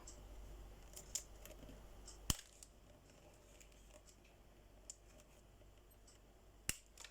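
Scissors snip through paper tube stands on a woven snowflake-lid box, a few sharp close cuts spaced out over quiet handling noise.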